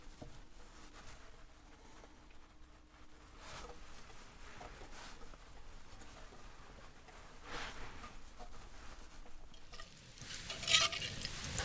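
Food frying in a pan on a campsite stove, a soft steady sizzle with light stirring scrapes, faint and close, growing a little louder toward the end.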